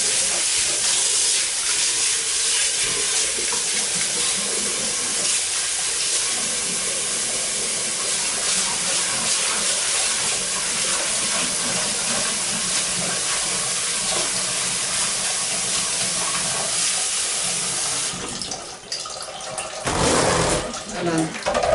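A loud, steady sizzling hiss of lots of water added to a hot pan while cooking kimchi, sustained for many seconds before easing off near the end.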